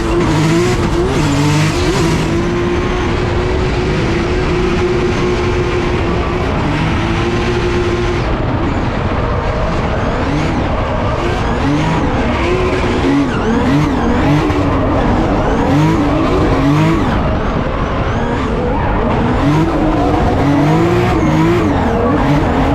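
A Nissan GTR drift car with a VR engine in a Formula Drift ProSpec run, engine roaring loud and sustained with rising and falling revs and tires squealing throughout, no talk.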